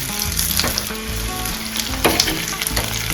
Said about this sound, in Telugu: తాలింపు అయితే చక్కగా వేగుతూ ఉందండి ఇప్పుడు కరేపాకు వేస్తున్నాను